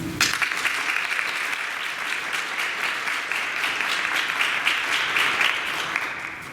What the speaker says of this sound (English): let's give our honorees another round of applause